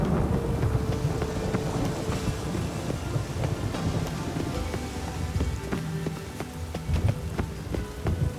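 Steady rain patters on surfaces in a city in The Witcher 3 video game, a dense, continuous hiss with scattered drops and a little wind, heard alone.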